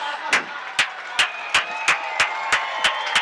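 Football fans in the stands at a high school game clap in unison for the PA announcer, sharp regular claps about three per second, ringing out over a quiet crowd.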